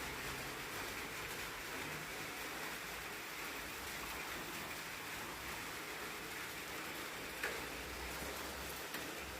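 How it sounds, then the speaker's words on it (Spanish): Light morning rain falls outdoors as a soft, even hiss with no pauses, faint and continuous throughout. "Amanecimos con un poco de lluvia."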